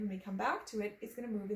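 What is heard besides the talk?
No distinct noise like a dog, phone or traffic.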